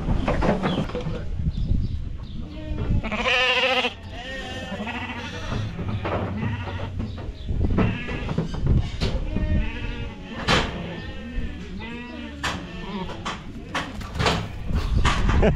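Freshly shorn, vaccinated and marked sheep bleat outdoors in Argentina's far south-east, with repeated overlapping calls of varying pitch from several animals nearby, fairly loud and continuous over a steady outdoor background.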